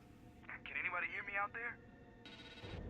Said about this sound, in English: Answer the phone, man?